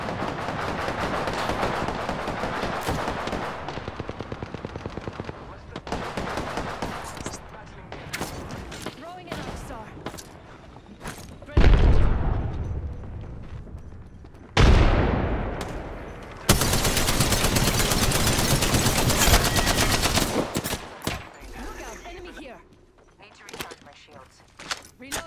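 Gunfire in a battle royale video game, sustained bursts of automatic fire and single shots in long loud runs with brief gaps and a few heavy thuds, and a voice talking now and then underneath.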